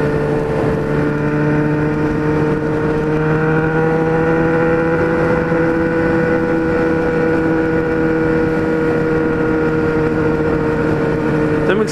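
Loud, sustained engine drone with steady harmonic tones from a motorcycle with a loud exhaust roaring continuously nearby, passing a bridge during a motorcycle meet.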